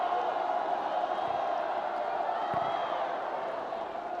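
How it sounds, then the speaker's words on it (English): A stadium crowd at a Paralympic 7-a-side football gold medal match in Beijing, a broad, steady roar of many spectators with scattered shouts, heard from a distance beneath a commentator's voice. "Lots of fans in the crowd here"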